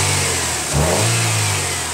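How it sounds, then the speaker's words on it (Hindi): A used Japanese car, the American-market version, revs its engine once, a steady close mid-pitched hum that swells briefly and settles back to idle, with no talk over it. "साउंड है, इस गाड़ी का इंजन है"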